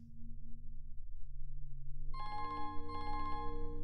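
A telephone rings in the video game Rakuen, an electronic trilling ring that starts suddenly over a low steady background hum and repeats in two pulsing bursts, with no speech.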